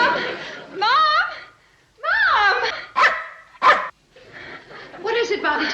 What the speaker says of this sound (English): it's a rude dog.